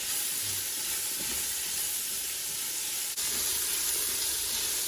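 Onion sizzles in an Instant Pot, a loud continuous hiss of frying with a brief clatter of stirring midway.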